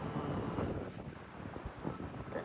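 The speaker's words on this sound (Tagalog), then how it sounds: "ang lakas ng hangin" Strong wind buffets the microphone outdoors, a dense continuous roar and rumble with gusty swells and no talk.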